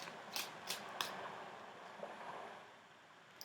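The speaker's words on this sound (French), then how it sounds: "Je vais sortir 3 cartes." Oracle cards being shuffled and drawn, several faint crisp riffles and card slides near the start, then a quiet hiss of room noise.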